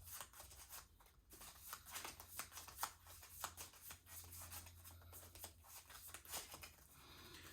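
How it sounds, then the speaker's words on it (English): Cards from the Arkham Horror card game being shuffled by hand, a fast run of close, crisp riffling bursts that keeps going, with no talk. "I'm going to shuffle these."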